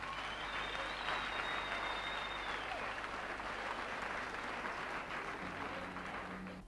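Applause from the audience at a 1990 Icelandic upper-secondary school song contest, honouring a guitarist: broad, sustained clapping across a hall with a faint tonal whistle above it, fading slightly at the end.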